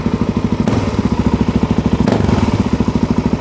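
A four-stroke motorcycle engine idles with a quick, pulsing, lumpy beat inside a shop, then gets two short throttle blips that briefly raise its pitch. The sound is loud and close.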